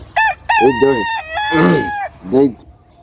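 A rooster crows loudly and close by, one full drawn-out cock-a-doodle-doo with a few short clucks around it.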